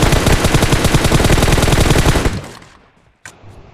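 Rapid automatic gunfire in a Free Fire-style battle royale video game, a loud sustained burst of tightly packed shots that stops abruptly, followed by near silence and a single faint click.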